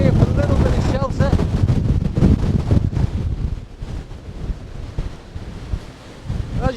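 Storm Darragh wind roars beside a lighthouse on the Cornwall coast, buffeting the microphone in a loud, continuous rush with surf mixed in, easing somewhat midway, while a person speaks over it.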